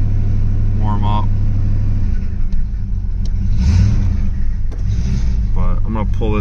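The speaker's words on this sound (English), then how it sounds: "I'm just gonna keep my foot on the gas just to let it warm up" A car engine runs close by, rumbling steadily with slight rises in revs as it holds a raised idle, while someone talks over it.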